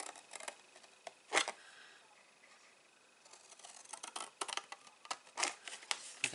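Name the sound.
cutting cardstock for a gift box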